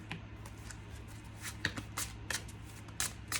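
Colorful tarot cards riffled and shuffled by hand, a run of crisp, rapid card flutters and slaps in close, quiet bursts with short pauses between, no talking.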